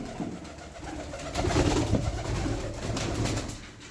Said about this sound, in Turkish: vakti zamanda Osmanlı saraylarından kaçan güvercinlerden bunlar